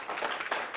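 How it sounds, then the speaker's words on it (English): An audience claps and applauds at a civic announcement, a short burst of dense, steady clapping with no voices. "I like hearing that applause."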